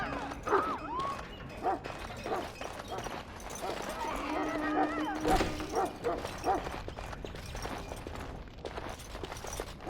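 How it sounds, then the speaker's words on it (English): A dog barks in short sharp bursts in a medieval castle larder in Dragon Age: Origins, its yips scattered through the scene beneath voices, footsteps and a faint musical score. "Get that bloody mutt out of the larder."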